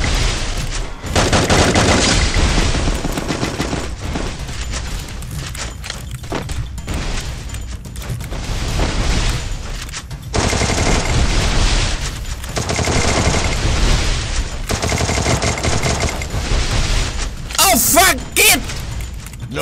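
Gunfire in the mobile battle game Free Fire, loud bursts of automatic and single shots in rapid clusters with brief pauses, close and dense, while a player talks excitedly over much of it.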